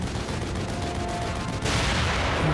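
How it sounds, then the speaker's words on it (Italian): Dense, continuous rattle of rapid machine gun fire in the video game The Evil Within, with a harsh, noisy texture, swelling louder partway through. "Quando ho una mitragliatrice in mano, io sparo senza pietà, proprio."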